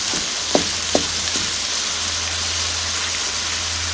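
Hamburger and mild Italian sausage fry in a pan, a steady loud sizzle with a low hum underneath and a few soft clinks of stirring near the start.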